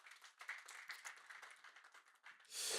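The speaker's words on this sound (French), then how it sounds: "Je vous remercie de l'applaudir." Audience applause at a French talk on mountain cycling with Union Sport et Cycle in Les Saisies, honouring an Intersport store manager. Steady, moderately faint clapping throughout, swelling louder in the final moment.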